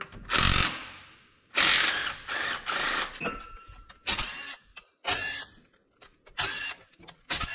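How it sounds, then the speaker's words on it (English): Ratchet wrench loosening timing cover bolts on an LS 5.3 engine: repeated bursts of loud, close mechanical clicking, in several runs separated by short pauses. "Now we can grab the bolts out of the timing cover."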